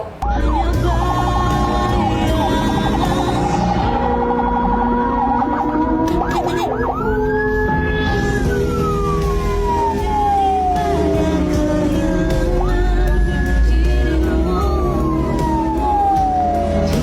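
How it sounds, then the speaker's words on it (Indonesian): A loud wailing ambulance siren, used for carrying a corpse, rises and falls in long sweeps over continuous traffic rumble, close by and persistent throughout. "sirine bawa jenazah"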